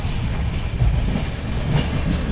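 The Sealdah-Puri Duronto Express rolls along the rails with a continuous close rumble and faint wheel clatter, heard alone without voices.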